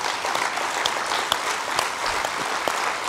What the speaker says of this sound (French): d'applaudir très fortement Kevin Decor